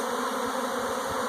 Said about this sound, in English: now, when bees are swarming like this, they are typically very docile